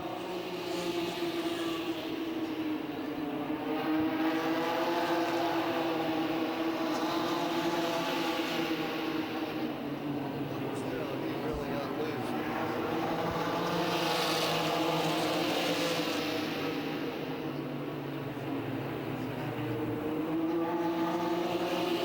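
ARCA race trucks circling a short oval racetrack at Music City Motorplex in Nashville, a continuous moderately distant engine roar that swells and fades as the pack passes, with no talk.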